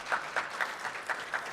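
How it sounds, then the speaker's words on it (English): Applause from a community press conference audience announcing a new two-level department store opening in Rochester Hills, with steady clapping surging in regular bursts, moderately distant and filling the room. "Round of applause for that."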